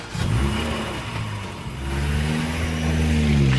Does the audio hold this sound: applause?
no